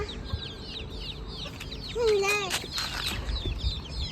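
Chickens cluck and chatter nearby in a yard, a rapid series of short calls with one longer drawn-out cluck in the middle, over a low background hum and faint voices.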